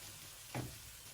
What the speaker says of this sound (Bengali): লবণ দিয়ে আমি আরো কিছুক্ষণ ভেজে নেবো পেঁয়াজ মরিচ চিংড়ি মাছ